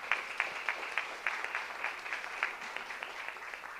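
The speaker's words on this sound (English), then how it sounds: "Could we give her a quick round of applause?" A scattered round of applause from a modest crowd at a school board meeting, individual claps standing out in an uneven rhythm, fairly quiet and a little distant.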